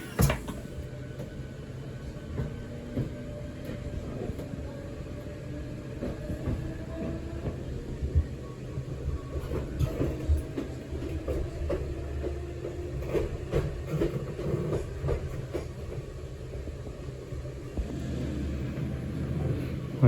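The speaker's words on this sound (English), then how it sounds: "We're pulling into the first stop on the Hayes line, which is West Wickham." A London suburban train on the Hayes line rolls into West Wickham station, its steady low rumble and rail clatter carrying on through the whole stretch, with braking tones shifting as it slows; no one speaks.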